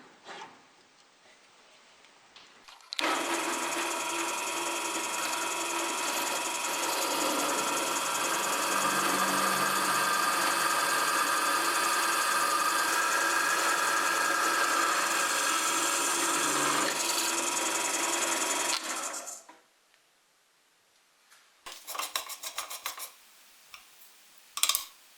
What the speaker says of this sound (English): now at the drill press I'm gonna drill the center hole